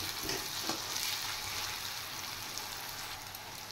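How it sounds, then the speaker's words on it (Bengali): Onions frying in a pan with salt, a faint, even crackling sizzle heard close and alone, with a few light taps early on and no voices. "পেঁয়াজ ফ্রাই হয়ে গেছে"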